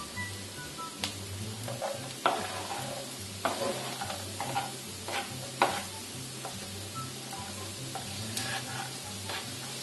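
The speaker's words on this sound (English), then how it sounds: "The onions are getting a little bit of color, so I'm going to add in my pepper and celery." Onions, pepper and celery fry in a pan for keto cauliflower dirty rice, a steady close sizzle with scattered crackles and pops and occasional stirring scrapes throughout, no voices.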